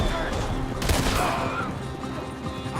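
Gunfire in Red Dead Redemption 2 cracks out in a close burst of several rapid shots, with a sharp blast near the middle and a lingering roar afterward.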